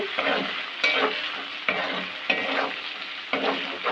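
Fish head and Gobindobhog rice mixture with ginger-garlic paste frying in oil while being stirred, with repeated scraping strokes roughly every half second over a steady close sizzle.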